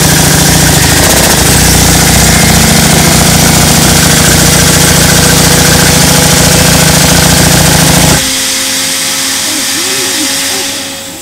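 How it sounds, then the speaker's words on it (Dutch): A ventilation fan at the Blegny coal mine roars loudly and steadily, a broad droning rush of blown air close by. Near the end the noise drops sharply to a lower hum and fades away. "Er zit een ventilator in, die zuigt hier de lucht uit en die gaat je daarin blazen."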